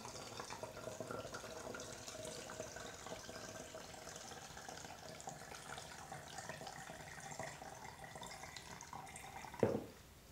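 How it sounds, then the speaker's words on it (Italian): Faint, steady trickle of tap water running into a plastic bottle while making homemade floor cleaner, continuous and quiet, ending with a brief louder splash near the end. "riempite il flacone per tre quarti"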